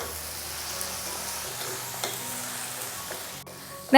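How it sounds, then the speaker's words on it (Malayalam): Fried white chickpeas are stirred into a simmering gravy for chilli chana, giving a steady, close sizzle with soft scraping stir strokes and no talking. "ഇതെല്ലാം കൂടി ഒന്ന് നല്ല രീതിയിലൊന്ന് മിക്സ് ചെയ്ത് കൊടുക്കണം"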